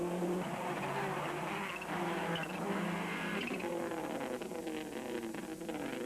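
Rally car at the 2003 Punchestown rallysprint driving hard through a chicane, its engine a loud, continuous roar with shifting revs and tyre noise, close and unbroken throughout.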